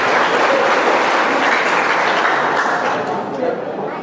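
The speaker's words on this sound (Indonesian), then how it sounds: "Tepuk tangan nih." Audience applause at a birthday celebration gathering, a dense, steady wash of many hands clapping at once, loud and sustained throughout, thinning slightly toward the end.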